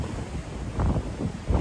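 Ocean waves roll and crash at Morro Bay, a steady low roar with gusting wind buffeting the microphone and surges swelling toward the end.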